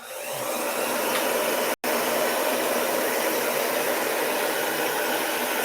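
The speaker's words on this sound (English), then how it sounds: "Let me just dry this really fast" A hair dryer blows steadily to dry a Halloween chalk-paste craft project, a close, loud continuous whoosh with one brief cut-out partway through and no talking.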